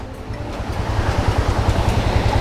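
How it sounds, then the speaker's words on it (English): A decent-sized waterfall beside a mountain road in Nepal near the Tibet border, its flow passing under the road, gives a steady rushing roar up close, with low rumbling throughout and no speech. "It's a decent sized waterfall there. This one's running under the road."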